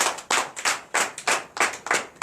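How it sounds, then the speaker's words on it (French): A church congregation at a night deliverance service in Comè, Benin claps hands together in a steady, lively rhythm, the sharp bursts of many palms landing in quick repeated beats with no talking. "Donnez l'acclamation à notre Seigneur Jésus."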